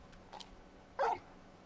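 Torgal, the large dog in Final Fantasy 16, gives a short single bark, loud against quiet game ambience, preceded by a couple of faint yips.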